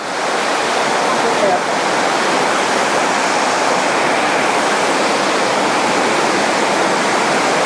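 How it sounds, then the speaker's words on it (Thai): Steady, dense rush of a tiered forest waterfall, loud and close, a continuous broadband roar with no pauses or breaks. "นี่เป็นชั้นน้ำตกไหลลงมานะครับ"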